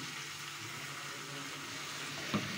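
Cumin, ginger and green chilli paste frying in a pan, a steady low sizzle with one brief clink near the end, no voices.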